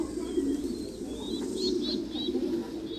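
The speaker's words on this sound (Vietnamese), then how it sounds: "những cặp bồ câu nuôi con nhìn rất là đẹp anh em ạ" Breeding pigeons raising their young coo in a low, steady murmur, with thin high chirps rising now and then above it, continuous and close.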